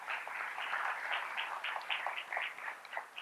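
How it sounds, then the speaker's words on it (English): A school district design team meeting audience applauds in a steady wash of many hands. The clapping is fairly faint and distant, and no voices rise above it. "A round of applause, please."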